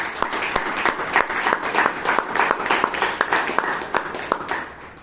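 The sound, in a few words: audience round of applause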